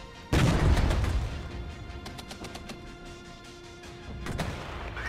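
Heavy artillery fire in the war game Blind Guard (Regiments): a loud boom opens, then a rumbling barrage with sharp distant blasts and crackling impacts continues, swelling again near the end.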